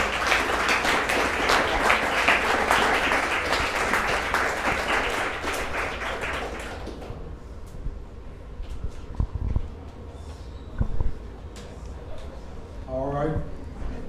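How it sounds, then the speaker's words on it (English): Audience applause at a debate on child marriage between Islam and Christianity: dense, steady clapping fills the first half, then dies away into room noise with a voice and scattered sounds. "let's give a round of applause before we start the Q&A"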